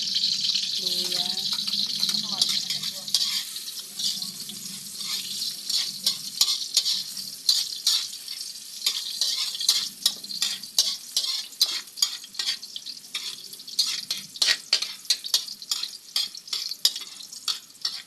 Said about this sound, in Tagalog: Nagigisa na po siya ngayon.